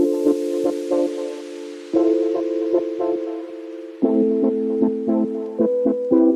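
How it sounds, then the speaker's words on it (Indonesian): Electric guitar strums ring out in short repeated bursts, chords cut off sharply between strokes, close and fairly loud with no talking. "saat ini udah saya sambungin gitar elektrik. Kayak gini suaranya."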